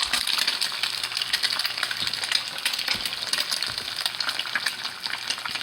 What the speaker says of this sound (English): you want it hot enough to be sizzling